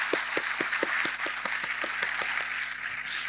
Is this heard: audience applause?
yes